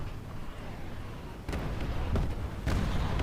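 A KV-2 heavy tank cannon fires in War Thunder Mobile, a heavy booming blast that swells over a constant rumble of engine and battle noise, followed by another loud thump near the end.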